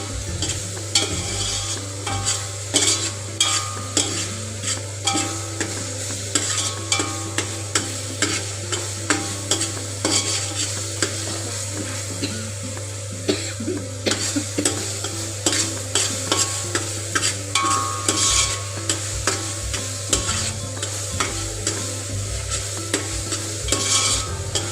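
Karnataka-style bhaji curry fried in a pan with onions, a continuous loud sizzle under steady, rhythmic scraping and stirring strokes throughout.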